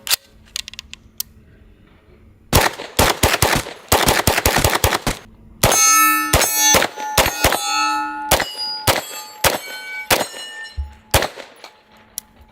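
A Grand Power Stribog 9mm carbine fires loud, rapid bursts of shots with sharp metallic clangs and ringing, broken by short pauses, close and with no talking.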